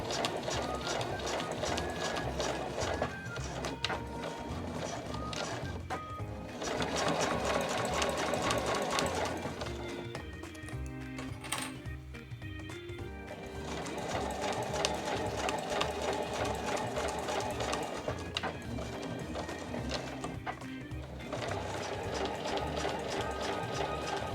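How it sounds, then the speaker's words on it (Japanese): Home sewing machine stitching a thick, soft quilted nubi fabric tablet case with a leather edge, a steady mechanical whirring and ticking run in long bursts with brief pauses, close and fairly loud, no talking. "厚みがね結構ありますけれども、結構ふわふわしているので普通の家庭用ミシンでもしっかり縫えるかなと思います。"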